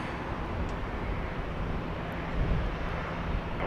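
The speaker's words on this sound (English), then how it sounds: "I think that plane's just taxiing." Steady broadband jet engine roar from an airplane taxiing at Dallas Love Field airport at night, a continuous even rumble and hiss heard alone at moderate distance.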